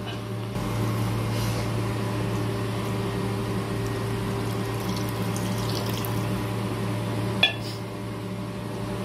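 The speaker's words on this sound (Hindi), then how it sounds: "थोड़ा सा पानी ऐड कर देंगे इसमें।" Water goes into a pan of potato curry with a continuous pouring, rushing wash over a low steady hum, fairly close, ending with a small clink near the end, and no talk.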